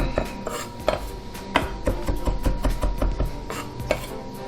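A knife chops parsley on a cutting board in a rapid series of close, crisp thuds, the blade coming down again and again in an uneven rhythm.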